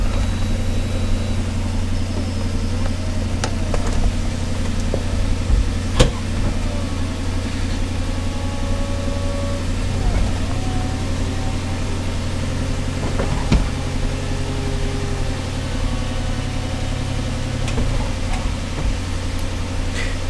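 An Aston Martin V8 Vantage with its stock exhaust idling: a loud, steady, even engine drone holds throughout with only slight fluctuations and no speech.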